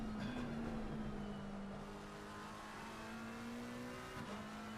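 A race car engine in a sim racing game at Brands Hatch holds a steady, droning pitch that dips and recovers slightly, with faint tyre noise, continuous and moderately loud with no talking.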